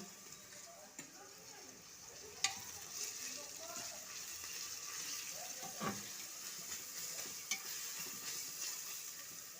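Grated garlic frying in a pan while chicken pulao is prepared, giving a steady low sizzle with a few scraping stirs and clicks of a utensil throughout.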